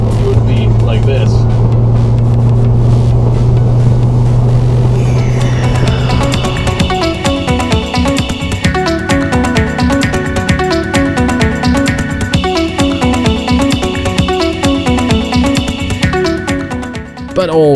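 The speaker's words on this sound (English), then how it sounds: "the sound in the cabin, especially on highways at high speeds, is rather uncomfortable" A steady low road and engine drone fills the cabin of a 2015 Nissan Juke Nismo RS at highway speed for about six seconds before music takes over and continues loudly over the rumble.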